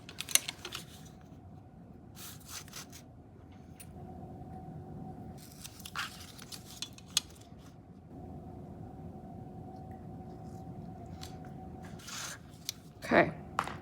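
Scissors or a blade trimming the paper edges of a handmade accordion book cover, with scattered short snips and scrapes spread across the stretch, under and between faint talk.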